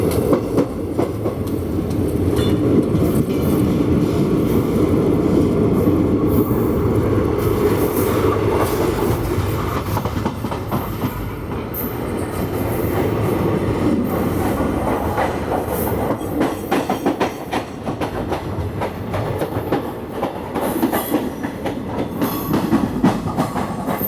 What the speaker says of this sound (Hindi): हमारी ट्रेन एंटर कर रही है मडगांव जंक्शन में।